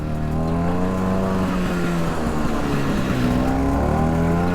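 A 1966 Piaggio Vespa 150 Sport scooter's small engine revs steadily and loudly up close, with a sustained harmonic drone that dips and rises slightly while the scooter rolls along.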